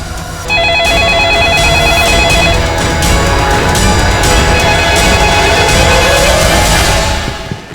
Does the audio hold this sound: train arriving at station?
no